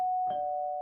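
A cartoon doorbell gives one clear electronic tone that holds steady for nearly a second, with a soft bump partway through and no voices.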